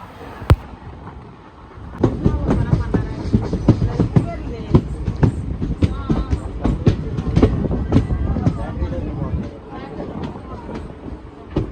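A Krishna Express train running in sleeper class, with steady rolling rumble and rhythmic clatter from the carriage throughout, close and fairly loud, with people talking over it.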